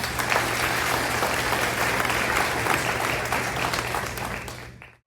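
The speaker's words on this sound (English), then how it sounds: "The final moments of the school year in the LOCS concluded with the 5th grade students being clapped out in front of family and the other students" Family members and students applaud fifth graders at a school's end-of-year send-off, a dense, steady wash of clapping from a sizable crowd that holds evenly for nearly the whole stretch before tapering off at the very end.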